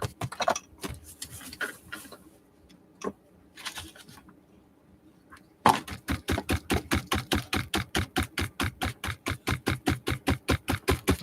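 Brush dabbing white paint onto a canvas that bounces, giving a rapid, steady run of soft taps after some scattered quieter knocks, close and fairly faint.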